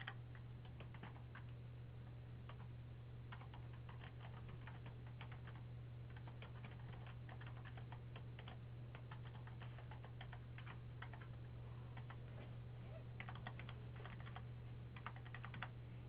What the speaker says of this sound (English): all I'm doing is tabbing through these fields and hitting next